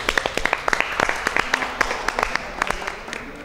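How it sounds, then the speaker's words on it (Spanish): Scattered applause from a small audience at a Marbella Te Quiero charity comedy event, with irregular claps of moderate loudness tapering across a few seconds. "¡Aplauso!"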